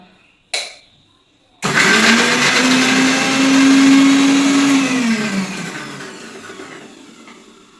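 An electric mixer grinder chops mango, chili and ginger in a jar: a brief knock comes first, then a loud, steady whirring roar that runs for several seconds before spinning down.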